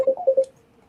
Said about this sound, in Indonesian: Nah, tuh telepon.